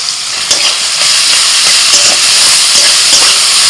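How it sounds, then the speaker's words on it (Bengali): Finely chopped onion hits hot oil in a kadhai and fries with a loud, continuous crackling sizzle that holds steady and close throughout. "কড়াইতে একটু তেল দিয়ে তেলটা গরম হয়ে গেছে ওর মধ্যে দিয়ে দিচ্ছি পেঁয়াজ কুচি"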